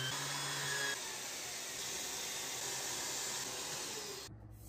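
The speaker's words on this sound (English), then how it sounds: "More sanding." A power sander working over wooden trim, a steady close whirring hum with a slight grinding texture that runs without pause and then cuts off sharply near the end.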